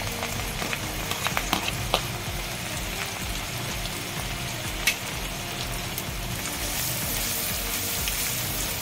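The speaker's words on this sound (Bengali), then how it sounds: "এবার এই তেলে আমি রসুন দিয়ে দিলাম, আদা কুচি দিয়ে দিলাম, কাঁচা লঙ্কা কুচি দিয়ে দিলাম" Chopped garlic, ginger, green chilli and garlic leaves fry in hot oil, a steady close sizzle with a few sharp crackles and stirring clicks throughout, no talking.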